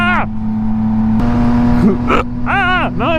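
A car rushes past a motorcycle rider on the road, its engine and tire noise swelling steadily and loudly under the rider's excited shouting and hiccup-like cries.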